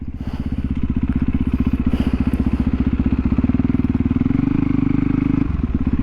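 A supermoto motorcycle engine thrums loud and close while riding, its steady rapid firing pulses throbbing continuously, with a brief shift in tone near the end.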